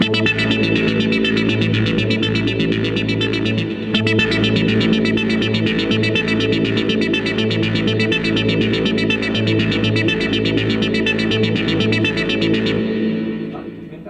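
A guitar run through a BOSS SY-1 guitar synthesizer pedal in tap-tempo mode plays a steady rhythmic phrase, dense and buzzing, continuous for the whole stretch with no talking.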